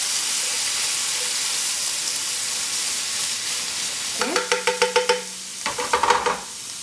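Garlic and ginger sizzle steadily in hot oil, a loud continuous hiss, joined near the end by a quick run of sharp clicks and scrapes from stirring against the pan.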